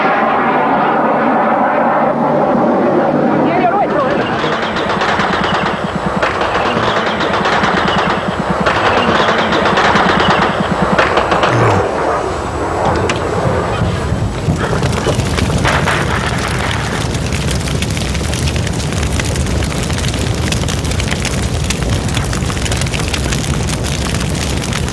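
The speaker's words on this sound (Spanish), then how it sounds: "se responde a los disparos que efectúan las Malvinas" Gunfire and explosions from the Falklands War: sustained bursts of machine-gun fire and heavy booms, loud and dense, with aircraft-like roar mixed in and a harsher, noisier stretch later on.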